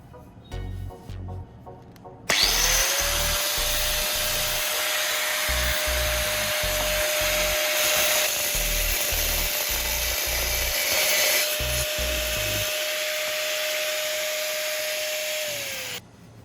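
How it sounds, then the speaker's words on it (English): A mini grinder or rotary cutter steadily cuts around the upper rim of a metal spray paint can, a loud sustained whine with a gritty rasp holding for over ten seconds, preceded by brief handling noise. "Carefully cut along the upper edge of the can,"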